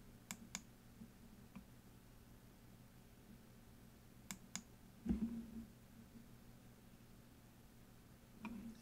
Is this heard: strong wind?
no